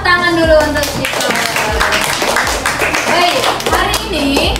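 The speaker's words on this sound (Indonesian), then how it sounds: "Tepuk tangan dulu untuk kita." Primary school pupils in a fifth-grade class clap their hands in a quick, rhythmic burst that lasts the whole stretch, with children's voices mixed in.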